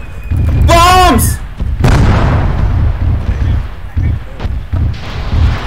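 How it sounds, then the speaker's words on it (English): Bombs explode during a D-Day 75th anniversary reenactment, a loud boom and burst followed by rumbling blasts, mixed with shouting and talk nearby. "Bombs!"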